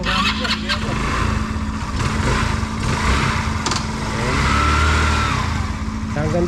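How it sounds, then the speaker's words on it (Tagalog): Idling motorcycle engine on a bike being sold, a steady low throbbing hum close by with slight swells in pitch, while people talk over it. "Ang ganda, tahimik ka ng makina."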